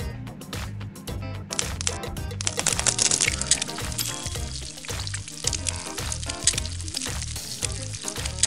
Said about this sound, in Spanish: ¡un huevo frito, por ejemplo!